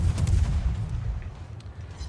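Warship secondary guns fire in World of Warships, a dull rumbling barrage of distant booms rolling together with a couple of sharper reports early on, no talk.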